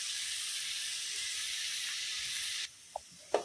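Fish curry ingredients frying in a pan give a loud, steady, close hiss of sizzling that cuts off abruptly, followed by two brief light clinks in near quiet.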